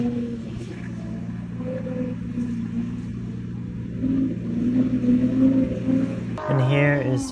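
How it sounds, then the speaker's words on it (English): Car spinning its first donuts while learning to drift, engine revving up and down in a steady rising and falling drone at moderate distance, a voice briefly heard near the end. "And here is Ferris doing his first donuts"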